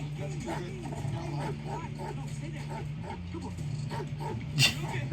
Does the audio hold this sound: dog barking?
yes